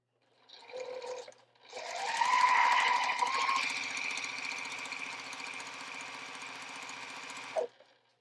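A sewing machine stitching right-sided quilt fabric pieces together: a short burst, a brief pause, then a long steady run of rapid mechanical needle chatter, close and clear, ending abruptly.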